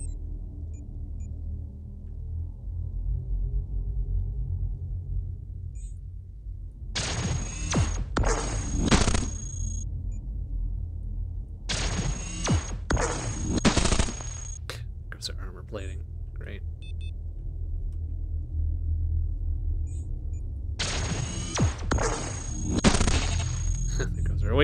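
Heavy ion and proton cannons fire in the robot combat game Cogmind, sounding as three loud, dense bursts of crackling blasts a few seconds long, separated by gaps filled with a low rumbling game drone.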